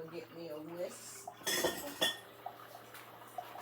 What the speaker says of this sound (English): And I'm going to get me a whisk